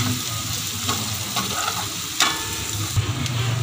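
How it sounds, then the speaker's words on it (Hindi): A spoon steadily stirring a frying besan mixture for karhi pakora in a pan, with continuous loud sizzling and occasional scraping knocks against the metal. "हमने इसको हिलाते रहना है इस तरह।"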